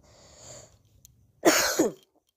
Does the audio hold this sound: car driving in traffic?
no